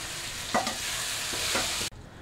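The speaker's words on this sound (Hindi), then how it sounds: "अभी टमाटर कट कर रखा था, टमाटर डाल देंगे।" Chopped tomatoes are tipped into frying onions with ginger-garlic paste and stirred, giving a steady close sizzle with a couple of scraping stirs before it cuts off abruptly.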